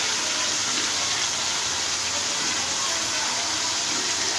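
Water poured into a pan of tomatoes and spices while chicken biryani cooks, a steady close gushing, splashing wash that holds evenly throughout with no talk.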